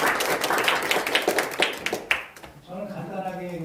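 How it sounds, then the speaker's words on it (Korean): A room at a Korean policy debate breaks into brisk applause, dense clapping that carries for about two seconds before thinning out. A speaker begins talking as it fades. "큰 박수로 부탁드리겠습니다."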